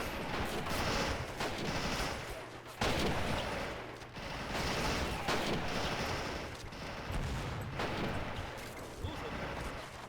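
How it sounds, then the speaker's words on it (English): Heavy machine gun fire in the Men of War: Assault Squad 2 video game, a loud, dense, continuous rattle of gunfire with booming impacts and short breaks, filling the whole stretch. "This is a heavy machine gun."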